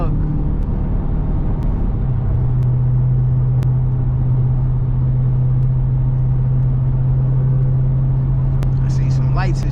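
A Dodge Hellcat widebody's engine rumbles with a deep, loud, continuous drone from inside the car while driving at night, steady throughout with a slight shift in pitch early on, and a voice talks over it.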